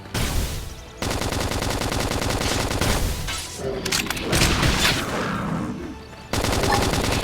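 Flame grenade going off during a battle in Xenoblade Chronicles X, a loud sustained crackling blast packed with rapid gunfire-like pops, heavy combat noise continuing throughout with brief gaps.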